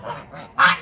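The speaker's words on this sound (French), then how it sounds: "J'aime pas les oies." A goose gives one loud, harsh honk near the end, close by, after quieter low calls and background murmur at a Center Parcs outdoor area.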